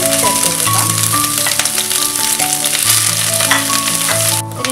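Crushed ginger and garlic fry in hot coconut oil for a prawn curry, a loud, dense crackling sizzle that runs continuously over faint tonal background sound.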